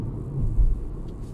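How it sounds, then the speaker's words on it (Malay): A steady low rumble of tyres rolling on the road, heard from inside a moving Proton X50 with a three-cylinder engine, with no talking. "Bunyi datang daripada tayar, daripada tayar."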